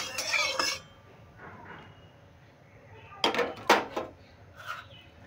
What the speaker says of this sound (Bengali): আমি তেলটা কড়াইতে ছড়িয়ে নিচ্ছি।